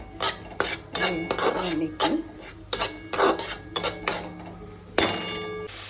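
Masala frying in a pan for moong dal curry, stirred hard with a metal spoon that scrapes and clanks against the pan in irregular bursts over a low sizzle.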